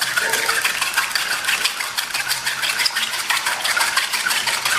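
Whisk or fork beating cracked eggs in a bowl for a cheese omelette, a dense continuous rattling scrape of metal against the bowl, steady and close with no talking.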